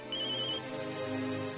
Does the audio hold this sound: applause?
no